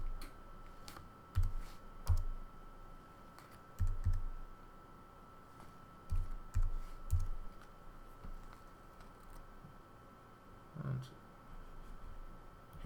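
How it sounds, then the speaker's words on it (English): A computer keyboard clicks in short scattered bursts as a USTA number is typed in, soft and close in a quiet room with no talking. "So I take Cece's card and enter her USTA number again."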